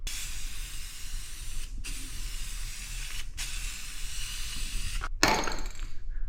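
Cheap clear coat is sprayed over gold pearl paint on a hotrod, close hissing bursts broken by three brief pauses, ending in a louder sputtering spurt, with no talking.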